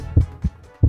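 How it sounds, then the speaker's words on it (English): A Hatchimals spider toy plays a synthetic heartbeat, three low, soft thumps in an uneven lub-dub rhythm, close and clear with no talking. "Listen to its heartbeat."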